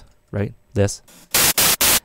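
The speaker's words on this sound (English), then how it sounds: "if we boost the resonance, we can actually play white noise" Resonant filtered white noise from a KV331 SynthMaster software synthesizer, three loud, sustained broadband bursts in quick even succession following brief talk.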